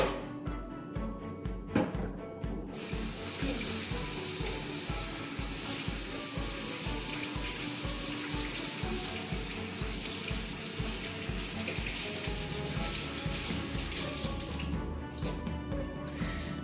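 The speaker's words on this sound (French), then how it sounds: "Je vais bien me laver les mains." Tap water runs steadily into a kitchen sink as hands are washed under it during lobster roll preparation, a continuous splashing rush that stays close and fairly loud throughout.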